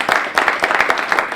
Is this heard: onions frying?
no